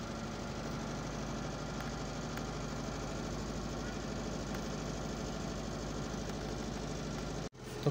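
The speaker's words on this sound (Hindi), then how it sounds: "तो फ्रेंड गाड़ी स्टार्ट हो चुकी है।" A Maruti Eeco engine idles steadily after starting, a van that had a fault of stalling whenever the accelerator was released; the low, even hum runs close and continuous for about seven seconds before a brief dropout.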